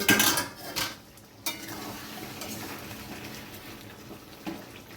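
A lid is lifted off a pot of cooking potatoes with a loud metallic clatter at the start, followed by further clanks and then a soft, steady simmering hiss.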